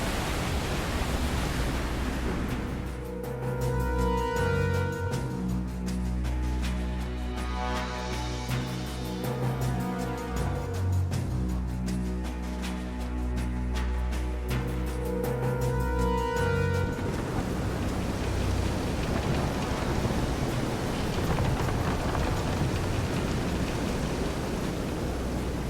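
A storm at sea in Visions of Mana: a steady, broad roar of wind and surging waves runs throughout, with a layer of tonal background music over the middle stretch and the rushing noise alone at the end.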